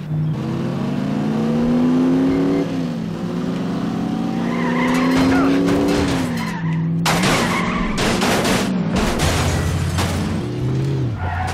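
A video game car engine whines and revs with rising and falling pitch, then tires squeal and skid loudly in several bursts, the sound continuous and close throughout.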